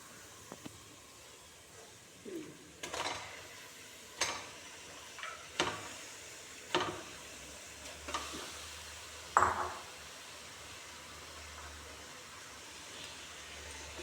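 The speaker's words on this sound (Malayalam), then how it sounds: "ഇതിൻ്റെ കൂടെ തന്നെ കഴുകി മാറ്റി വെച്ച ബീഫ് ഇട്ട് കൊടുക്കുക." Washed beef goes into a pot for a Kerala neychoru beef curry, with soft sizzling under a series of regular clinks and scrapes of a spoon against the pot.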